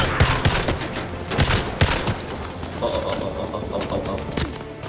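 Rapid gunfire bursts from Call of Duty Modern Warfare 2 Remastered crack loudly in the opening seconds, then settle into a denser, lower rumble of shooting and game noise.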